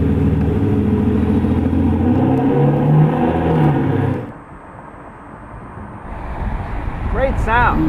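A 2013 Aston Martin's naturally aspirated V12 rumbles loud and close, dips briefly to a quieter idle, then swells again as revs rise at the end.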